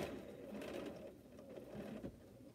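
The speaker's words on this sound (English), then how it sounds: "I'm at the bottom for right now until I sew this seam" Faint, steady whir of a sewing machine stitching a quilt seam, continuous and soft throughout.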